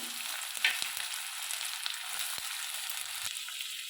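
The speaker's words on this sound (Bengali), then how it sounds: "তেলটা আমার গরম হয়ে গেছে আমি এখানে পেঁয়াজ কচিগুলো দিয়ে দিলাম তেলের মধ্যে" Chopped onions sizzle in hot mustard oil in a pan, a steady, close hiss of frying with a few soft stirring clicks and scrapes, no talking.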